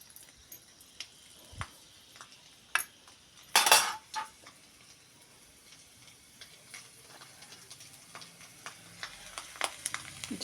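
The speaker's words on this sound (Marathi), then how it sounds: "तेलात टाकला लसूण" Garlic dropped into hot oil in a kadhai on a gas stove, a faint sizzle with sharp clinks and scrapes of a metal spoon against the pan, one louder burst of frying midway, close and quiet.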